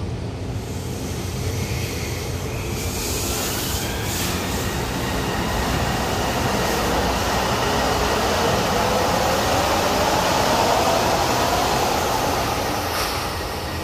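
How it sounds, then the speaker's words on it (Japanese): A Port Liner train rumbles and hisses steadily as it approaches from the opposite direction and passes close by, its wheels and motors filling the air with continuous noise. "反対から電車来た。"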